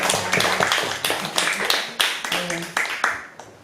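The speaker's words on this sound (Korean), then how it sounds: "우리 그런 하나님께 우리 다 같이 한번 영광의 박수 드릴까요?" A church congregation at a Wednesday worship service claps together in praise to God, a burst of sharp, uneven hand claps that thins out over a few seconds, with a voice speaking over it.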